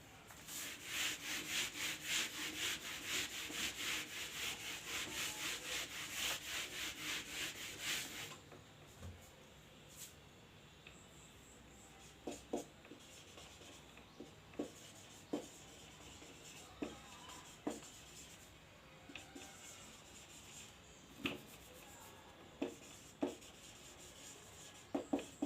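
Chalk or marker writing on a board in a physics lesson, with a long steady scraping stroke followed by faint, sparse taps and short scratches.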